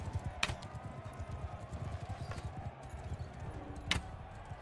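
Horse hooves clip-clop in the Mount & Blade II: Bannerlord video game, a soft, quick patter of steps running continuously under the scene, with a few sharper knocks standing out.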